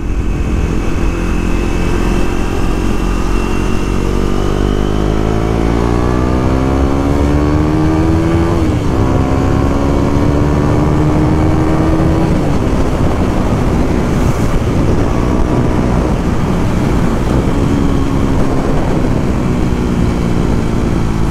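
A KTM motorcycle engine drones loud and close while riding, its pitch climbing and dropping through gear changes under strong wind rush, with no talk.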